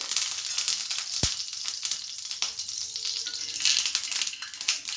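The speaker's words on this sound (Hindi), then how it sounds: "तवा गर्म होने के बाद मैं इसमें घी डालूंगी" Ghee sizzles on a hot tava griddle, a steady crackling hiss with small pops that stays fairly quiet and constant, with one sharp tap of utensil on metal partway through.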